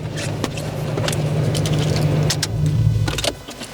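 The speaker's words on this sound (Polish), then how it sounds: "wyjeżdżamy z rolek, jedziemy na zakład do nas i się żegnamy" A Suzuki Jimny rolls off dynamometer rollers in a workshop, giving a steady close engine and rolling rumble with some rattles and clicks, which drops away near the end.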